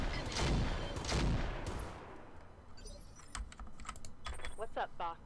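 Mech weapons firing in the Roguetech video game: a loud burst of heavy fire opens the clip, followed by scattered sharp shots and fading electronic tones.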